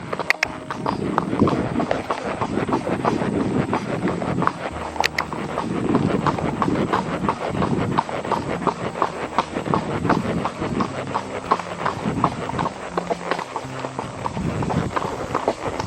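Horse hooves clip-clop in a steady, rapid rhythm on a trail ride through the Ozark National Scenic Riverways near Eminence, Missouri, close and continuous with faint creaks of tack.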